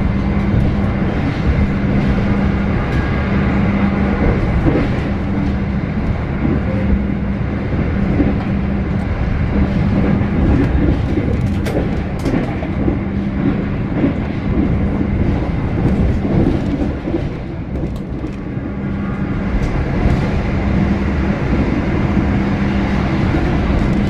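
Argo Bromo Anggrek express train running at about 103 km/h past Bekasi, a steady loud roar of wheels and carriages heard from onboard that continues throughout with no let-up.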